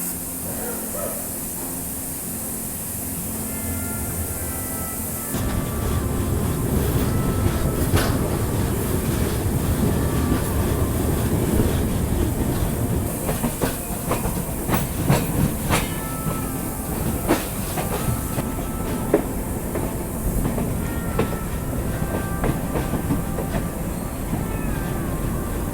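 Delhi to Katra Jammu Mail train pulling out of a quiet night station, a steady low rumble building after a few seconds into continuous rolling with clickety-clack wheel beats and occasional sharp clanks, loud and close throughout.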